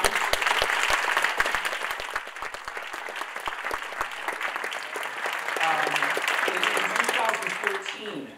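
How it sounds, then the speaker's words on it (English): Audience applause at the close of a lecture, a dense wash of clapping from a large hall that holds steady for several seconds, with a few voices talking over it toward the end. "perhaps we give him a round of applause one more time"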